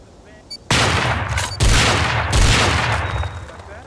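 Rust video game gunfire: a loud, close burst of rapid shots with a short break, then another sustained volley that slowly tapers off.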